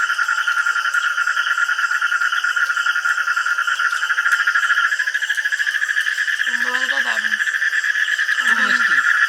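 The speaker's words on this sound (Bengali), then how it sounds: "এই যে বাইরে ঝিঝি পোকার ডাক মাঝে মাঝে ব্যাং ডাকছে" Outside at night, insects such as crickets keep up a dense, continuous high chirring, close and steady, while a frog gives a couple of short croaks near the end.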